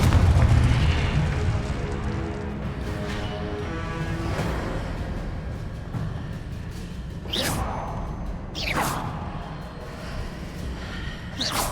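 Repeated Confringo blasting spells fire in Hogwarts Legacy combat, heavy booming explosions with whooshing sweeps, several bursts spaced a few seconds apart over a low rumbling background.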